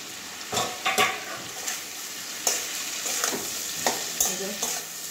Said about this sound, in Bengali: আর একটু কষাবো, ঢাকা দিয়ে দিয়ে কষাতে হবে আমাকে পেঁপের কাঁচা গন্ধটা যাওয়া পর্যন্ত।